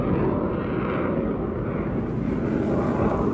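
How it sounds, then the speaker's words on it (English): Military jets near a naval air station make a steady, loud, broadband roar that holds without a break, a continuous rushing engine rumble with no voices over it. "All that stuff can be affected by these jets if you get closer to the station."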